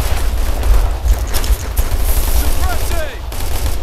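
Rapid bursts of automatic gunfire and heavy booms in Operation Flashpoint Red River, loud and dense, with a radio voice talking over the firefight.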